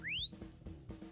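A micro:bit sound effect on a triangle waveform sweeps quickly upward in pitch as a clear electronic chirp for about half a second, steady and moderately loud, then cuts off into low background hum.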